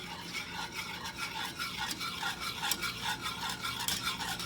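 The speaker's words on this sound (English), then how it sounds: "So once you've added all your seasonings, mix it." A utensil stirs and scrapes through a bowl of seasoned scalloped potatoes, giving steady, close, rhythmic swishes and rasps with occasional sharper scrapes and no talking.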